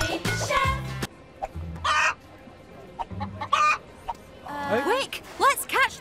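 Hens clucking and cackling in a farmyard during an egg hunt, with a rooster crowing; bursts of fowl calls come repeatedly and close, alternating with children's and adults' voices talking.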